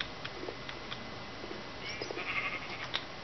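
A sheep in the video game Minecraft bleats faintly a few times in the background over a steady noisy bed, with short game sound effects scattered through.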